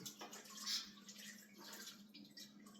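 Water sloshes and splashes steadily as fruit peel is washed in a cooking pot meant for boiling pineapple with ginger, a close, moderately quiet kitchen sound with no talking.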